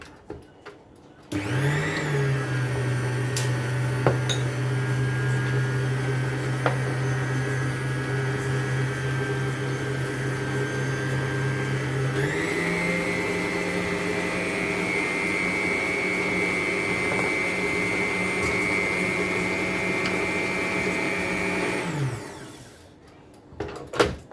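An electric mixer creams butter and castor sugar for an apple crumble cake batter, giving a steady, close motor whine that steps up to a slightly higher speed midway through and runs about twenty seconds before cutting off, with no talking.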